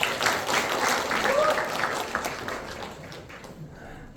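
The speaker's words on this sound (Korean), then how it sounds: "박수로 모시겠습니다." An audience at a regional self-sufficiency center event applauds to welcome a speaker to the stage. The clapping is dense and steady at first, then thins and fades out over the last second or so, with a voice faintly underneath.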